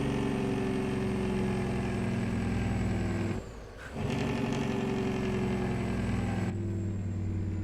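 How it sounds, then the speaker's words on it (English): A Peterbilt 359 truck in American Truck Simulator drones with a loud, steady rumbling engine-brake tone that briefly cuts out mid-way and then resumes, with no talking. "Grab the Jake brake."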